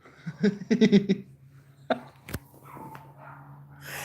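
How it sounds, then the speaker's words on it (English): A burst of rapid, high-pitched yapping from chihuahuas, then a single sharper yap and scattered quieter sounds fading into the background. "listen to the chihuahuas barking in the background"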